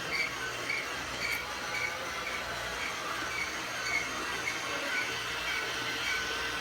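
A toy Christmas model train runs around its tracks close by, giving a steady rolling clatter with faint rhythmic clicks from the rails and a light hiss throughout, with no voices.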